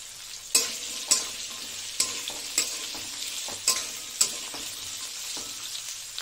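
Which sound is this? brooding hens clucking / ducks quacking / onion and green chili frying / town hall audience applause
onion and green chili frying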